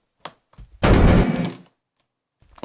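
Door opening in the horror video game The Mimic: a few faint clicks, then a loud heavy thunk and creaking swing lasting under a second, fading out into silence, close and alone.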